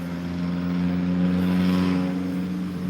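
A car with a loud aftermarket muffler revs close by in a street setting, its deep exhaust rumble holding steady and swelling slightly mid-clip before easing off, with no talk over it.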